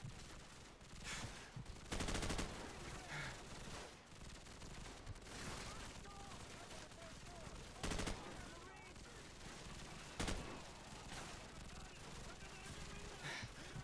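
Gunfire in Call of Duty Modern Warfare (2007), with rapid automatic bursts and sharp single shots cracking repeatedly throughout, mixed with battle noise and voices underneath.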